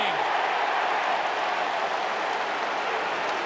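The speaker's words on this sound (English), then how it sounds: "Yeah, the crowd enjoying it." Large crowd at an AFL football match between Essendon and Collingwood, heard as a distant, steady roar of cheering and applause washing through the stadium, fairly faint and even throughout.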